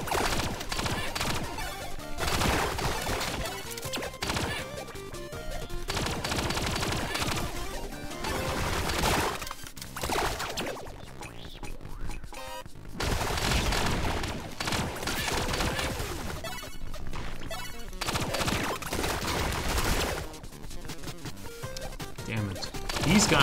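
Enemy SMGs spray bursts of rapid gunfire in the top-down shooter Relic Hunters Zero, crashes and impacts piling up in a loud, nearly continuous barrage with short breaks, game music and effects mixed in.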